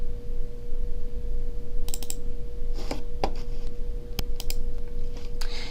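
Computer mouse clicks in PSoC Creator 3.3 sound as sharp little ticks, including close-together pairs, scattered over a constant electrical hum.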